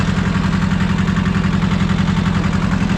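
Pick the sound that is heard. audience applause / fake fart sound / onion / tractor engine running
tractor engine running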